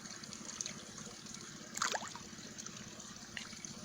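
Water circulates through a backyard carp pond fitted with a homemade skimmer, giving a faint, steady trickle with a brief, slightly louder splash near the middle and no talking.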